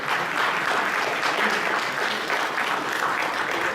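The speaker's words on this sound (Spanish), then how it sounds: "Pidamos al señor Ricardo Salazar con un fuerte aplauso" An audience at a master's course session in public procurement bursts into steady, dense clapping that holds evenly for several seconds without voices.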